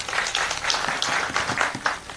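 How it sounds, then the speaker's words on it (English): Audience at a live event clapping for newly introduced officials, a dense wash of many hands applauding steadily throughout at a moderate level, with no talk. "Can you clap for them?"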